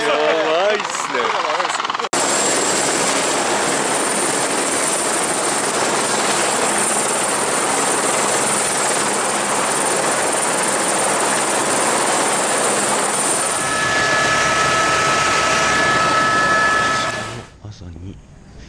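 A helicopter flies near Carstensz Pyramid, its rotor and engine roar loud and steady for most of the stretch before cutting off near the end; voices are faintly present.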